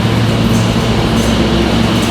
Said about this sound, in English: my train coming in a minute